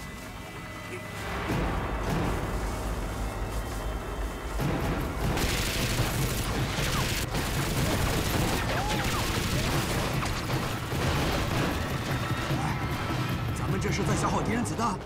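Dense, sustained gunfire from a war drama battle scene: rapid volleys and booming crashes pour out loud and continuous for nearly the whole stretch after a brief quieter opening.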